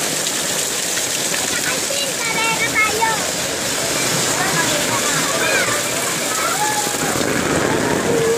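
Heavy typhoon rain in the Philippines, a loud, constant roar of downpour with no breaks, while voices carry faintly underneath the wash.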